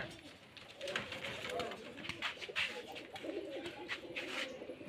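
Tumbler pigeons of the Rajshahi giribaz type coo softly and steadily in a loft, with people talking over them throughout.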